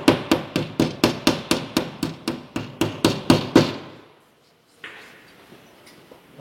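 Hammer blows drive a plastic wall anchor, screw already set in it, into plasterboard: about fourteen sharp, evenly spaced strikes, close and loud, then a brief pause and a faint rustle.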